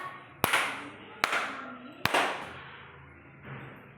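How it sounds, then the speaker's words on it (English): Three sharp, close hand claps land about a second apart for a sound-sensor robotics project, each crisp crack followed by a brief ringing decay and a faint hum. "sound sensor project when I clap on and off"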